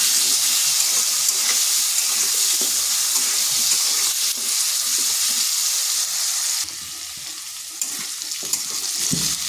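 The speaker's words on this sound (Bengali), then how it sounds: "এখানে দিচ্ছি সামান্য হলুদ আর সামান্য নুন। আলুটাকে একটু ভেজে নেব।" Diced potatoes seasoned with turmeric and salt sizzle steadily in hot oil, a dense, even crackle that carries on without talk and dips a little softer toward the end.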